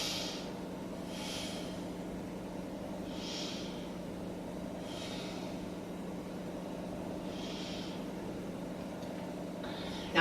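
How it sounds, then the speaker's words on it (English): Slow, deep yoga breaths drawn in and let out in a quiet room during a beginner session, about five soft airy exhales spaced a couple of seconds apart over a steady low background hum. "let's take 3 breaths here"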